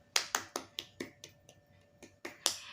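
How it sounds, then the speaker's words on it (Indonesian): In a classroom, sharp, crisp hand claps ring out one after another in a loose, uneven rhythm with short gaps, close and fairly clear. "Baikkah kita beri tepuk tangan atau apresiasi untuk kelompok kalian masing-masing?"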